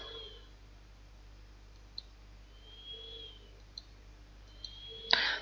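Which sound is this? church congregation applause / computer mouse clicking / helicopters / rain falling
computer mouse clicking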